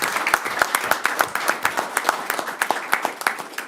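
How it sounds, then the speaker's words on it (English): Audience at a school board of education meeting applauds teachers, a moderate group clapping close and steady with clear individual hand claps throughout. "I think we deserve to give them all a round of applause"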